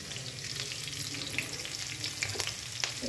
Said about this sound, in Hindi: और इसको भूजना है लाल होने तक